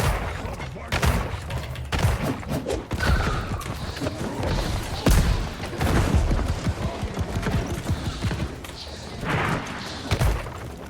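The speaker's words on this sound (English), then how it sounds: "I'll just shoot cannons." Ship cannons fire in a New World naval battle, a run of heavy booming thumps and crashes in irregular bursts, with a player talking over the barrage.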